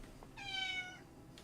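A cat meows once in the video game Honkai Star Rail, a single drawn-out, fairly clear meow lasting about half a second over a faint, quiet background.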